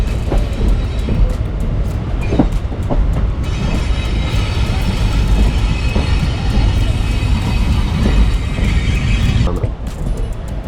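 The Guruvayur–Chennai Egmore Express rounds a big curve near Nagercoil Junction with a continuous loud rumble and rattle of rolling stock, broken by sharp clanks and a faint high wheel squeal in the middle.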